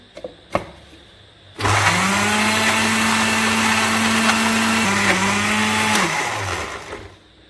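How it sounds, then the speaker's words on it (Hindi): A kitchen blender whirs steadily for about four seconds, blending raw mango, green chillies, coriander and mint, with its motor pitch dipping slightly near the end before it winds down; a few small knocks come before it starts. "जी व्यूअर्स, केरी और हरी मिर्च, धनिया, पुदीना ब्लेंड हो चुका है।"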